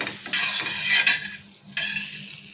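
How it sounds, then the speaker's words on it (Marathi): A sandwich toasts in butter on a griddle pan, giving a steady close sizzle with light scraping and stirring noises on top. "इथे तव्यामध्ये मी सँडविच टोस्ट करणार आहे इथे बटर लावून घेते"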